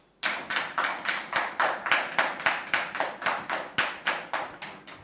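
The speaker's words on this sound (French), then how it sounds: "Merci de recevoir Monsieur Lokoulé sous vos applaudissements, s'il vous plaît." A small audience claps steadily to welcome a guest onto a French-language talk show set, with about fifteen evenly spaced, fairly close claps in a regular rhythm and no talking over them.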